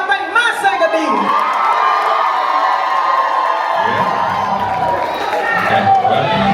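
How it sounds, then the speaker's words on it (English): A crowd at a live gospel concert in Durham, North Carolina cheers and shouts loudly and continuously, with whoops and voices rising over the din. "Y'all clap y'all hands if y'all think my singer did it."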